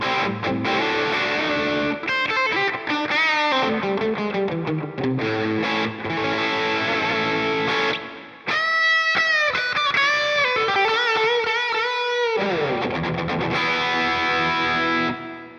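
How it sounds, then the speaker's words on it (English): An electric guitar plays through a Marshall JMP-1 preamp on its overdrive 2 channel, with distorted chords and sustained bent single notes ringing out, a brief pause near the middle, loud and alone. "We'll pull the gain down a bit and we'll move it over to overdrive 2."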